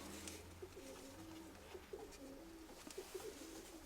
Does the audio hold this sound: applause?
no